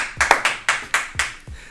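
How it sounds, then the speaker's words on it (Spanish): One person claps alone: about seven sharp, close hand claps in a quick, slightly uneven rhythm, with no other sound around them. "Y me aplaudo yo solo nomás aquí."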